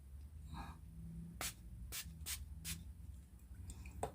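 Several short, sharp hisses from a facial hydrating mist spray bottle, four quick bursts close up with small rustles between them, quiet and with no voices.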